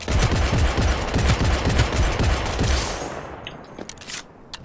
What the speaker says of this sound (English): Oh, I didn't actually have to shoot these guys up.